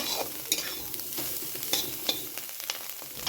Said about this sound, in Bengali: দেখো আমি এখানে ফুলকপি ভাজা বসিয়ে দিয়েছি। ফুলকপিটা প্রথমে আমি ভেজে নিব।